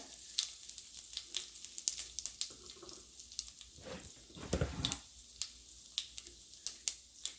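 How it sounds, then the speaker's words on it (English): Asafoetida (hing) fries in hot oil for a curry, a soft close crackling sizzle with scattered sharp pops and a brief louder burst of spattering midway. "And I'm adding some asafoetida or hing, as it is called in India."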